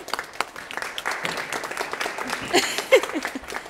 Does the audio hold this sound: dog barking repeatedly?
no